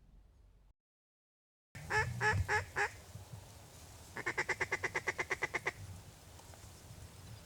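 Ducks and geese call across an open field during a duck hunt, with a brief dropout and then a few loud honks. A rapid series of about a dozen quacking calls follows at moderate distance over low background noise.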